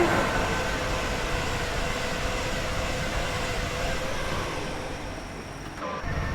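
A BLU Class 87 electric locomotive in Train Sim World 5 runs along the West Coast Main Line between Preston and Carlisle, a steady loud rumble of wheels on rail with a continuous motor hum and no speech.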